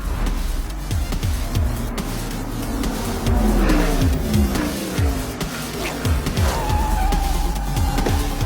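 Racing car roaring around a track during a 50-lap race, engine notes sweeping up and down through repeated passes with tire squeal, loud and continuous under dramatic film music.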